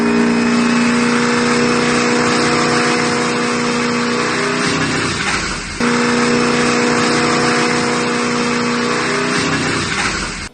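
A V8-swapped Toyota Supra roars at sustained high revs while strapped down on a dyno, a loud, steady engine drone that briefly dips mid-run and then climbs back to full pitch.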